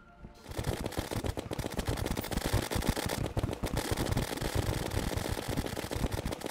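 In Terraria, every ranged weapon fires at once, making a dense, loud, continuous barrage of rapid overlapping game shots and effects that runs unbroken from just after the start.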